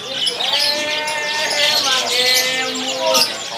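A black-red canary in a bird kiosk at a market sings nearby in a loud, continuous run of bright trills and warbling whistles, with speech running underneath.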